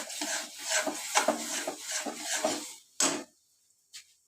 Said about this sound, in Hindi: और ये हमारे मसाले भून रहे हैं।